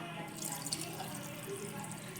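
Water pours into a cooking pot for spiced wheat khichdi with vegetables, a steady soft running splash lasting a couple of seconds, close and fairly quiet with no talk over it.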